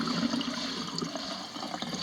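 Water draining and trickling off freshly soaked corn husks for tamales, a steady close wet dribble without pauses.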